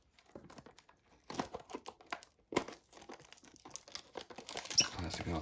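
Plastic shrink wrap is torn and pulled off a box of NBA trading cards. Quiet crinkling and tearing comes in bursts close to the microphone, with no talking.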